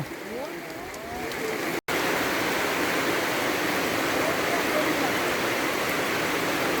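Steady rain falls outdoors over an open rice field, a dense and even hiss that carries on unbroken apart from one very brief cutout near the start, with faint voices underneath early on.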